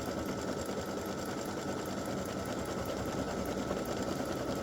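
A sewing machine satin stitching an applique gnome design runs in a steady, dense, continuous whir from start to finish, close and alone with no talk.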